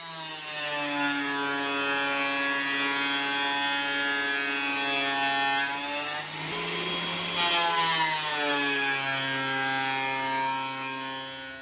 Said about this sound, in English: Last step in the process was another pass through the thicknesser on their edge to remove any saw blade marks